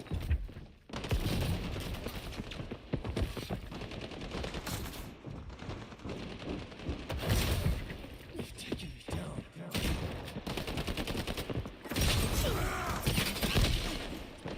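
Video game gunfire crackles in rapid bursts and thuds, loud dense volleys rolling continuously with brief pauses between fusillades.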